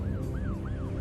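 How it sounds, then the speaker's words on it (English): Police siren wailing in steady rising-and-falling sweeps, heard at moderate distance over a low rumbling background. "sirens ring out as police rush to an abandoned parking lot"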